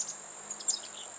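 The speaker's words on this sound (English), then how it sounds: "That's a chickadee." A chickadee calling at the Capitol area bird sanctuary in Lansing, Michigan, with a faint, brief high chirp over a steady high insect-like drone in a quiet outdoor setting.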